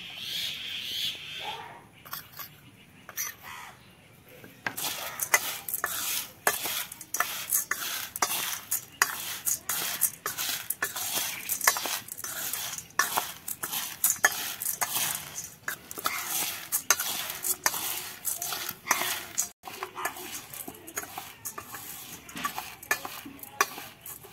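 Fried dal moth snack is tossed and mixed in a bowl, producing a busy crackling, rustling clatter of scrapes and taps that starts quietly and becomes steady and close after a few seconds.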